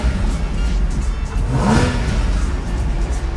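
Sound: Porsche engine revving

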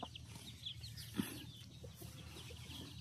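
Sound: chickens clucking

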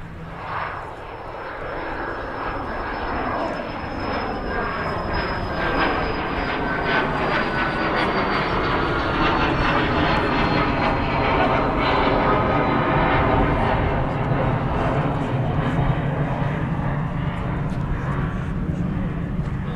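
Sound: Etihad airliner taxiing out at Manchester Airport

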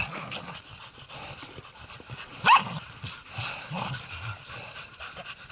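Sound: dog barking

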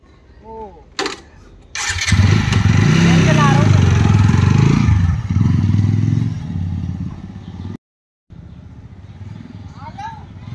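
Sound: new motorcycle being started and revved

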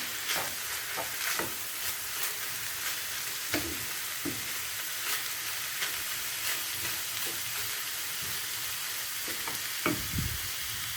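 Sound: onions and minced meat frying in pan

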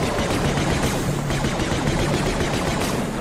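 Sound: gunfire shooting zombies in Star Wars Death Troopers video game

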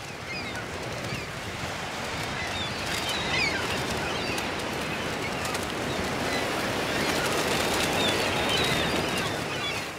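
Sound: seagulls on a beach

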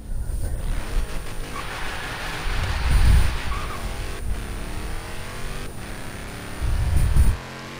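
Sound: Dodge Hellcat engine in Forza Horizon 3 video game drag race

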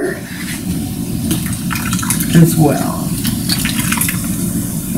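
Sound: water being poured into a crock pot

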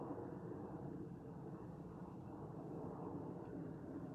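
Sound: drone flying overhead

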